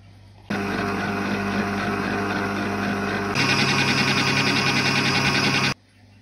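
An electric hand mixer whips cream with sugar at moderate speed, a steady close whirring drone with a blended grinding texture that shifts up in pitch partway through, then stops abruptly.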